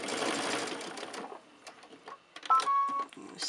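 A sewing machine stitches a quilt seam in a near, loud whirring burst that runs for over a second, then stops; softer handling noises and a short high mechanical whine follow.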